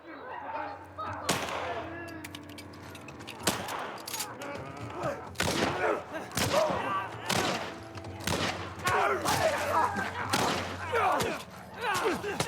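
Bursts of gunfire from The Last of Us video game crack out repeatedly in uneven volleys, sharp shots scattered through the stretch, with people talking excitedly over the shooting.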